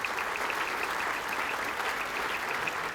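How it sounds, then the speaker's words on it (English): Sustained applause from a gala dinner audience at an ethnic business awards presentation, a dense even patter of many hands clapping at moderate distance, with no talk. "Could we have a round of applause for these beautiful custodians"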